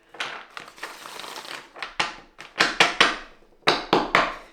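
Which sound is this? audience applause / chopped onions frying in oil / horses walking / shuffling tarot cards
shuffling tarot cards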